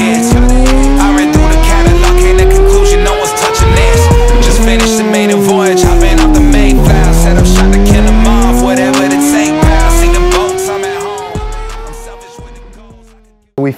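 A 2023 Suzuki GSX-R1000R with a full titanium M4 exhaust and a freshly flashed ECU runs on a dyno. The engine is loud and close, revving up and down in repeated rising and falling sweeps that fill the whole stretch.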